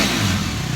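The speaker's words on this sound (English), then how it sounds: "It sounds like a dirt bike, because it is." A dirt bike motorcycle engine revs loudly and close by in a short, rough burst.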